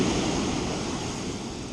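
Ocean surf breaking on a beach during a striped bass fishing outing at sunset, a loud broad wash of rushing water that slowly eases, with wind noise and no voices.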